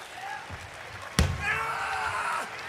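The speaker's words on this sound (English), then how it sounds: "Plants him with the Saito suplex." A wrestler is slammed onto the ring mat with a Saito suplex at a live pro wrestling event in Los Angeles, one sharp, loud thud midway, with crowd noise and talk around it.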